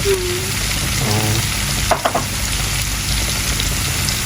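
Garlic and onion tempering for dal sizzles loudly in hot oil, a dense, continuous frying hiss with a brief clatter of stirring partway through.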